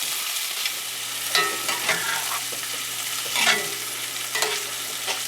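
Apples and onions frying in butter with sugar in a skillet, a loud, steady close-up sizzle broken by a few louder stirring scrapes.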